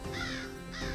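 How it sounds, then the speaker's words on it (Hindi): Crows cawing, a couple of harsh repeated caws close by and fairly clear, with no talk. "काक तो आ गए"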